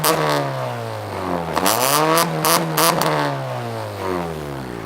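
A car engine revs hard through its exhaust in repeated rising and falling bursts, loud and close, with crackling pops between the revs and no talking.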